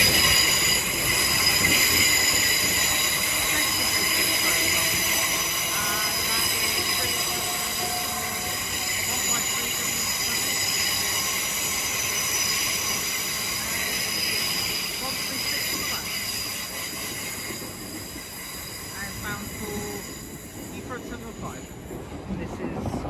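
A GWR Class 374 train arriving at London Paddington station, its wheels squealing loudly and steadily under the station roof for over twenty seconds, with a voice talking over the rolling din.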